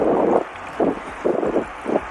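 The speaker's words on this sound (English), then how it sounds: "Oh, it's windy." Gusts of wind buffet the microphone in several short, rough bursts, loud and close.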